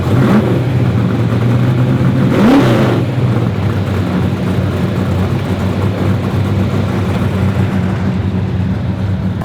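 A street drag racing car with wheels up launches hard off the start line, a loud roaring engine surging up and holding a dense, sustained growl close by.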